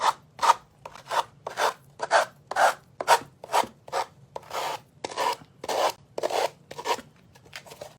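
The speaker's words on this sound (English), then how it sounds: "my little Dollar Tree sander, and I'm just going to sand off these edges" A small handheld Dollar Tree sanding block rubs back and forth along the edges of a wooden pallet, making about a dozen rhythmic rasping strokes that are close, steady and evenly spaced, with no talking.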